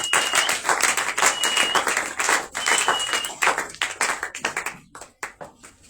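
A church congregation at a Shavuot celebration applauds loudly, a close, dense clatter of many hands with a few whistles, thinning into scattered individual claps before stopping.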